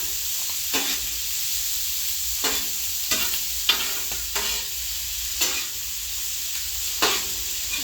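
Chicken, shrimp and salmon sizzle steadily on a griddle grill, a loud continuous frying hiss broken by periodic scraping and flipping clatters from a spatula, heard close and without talk.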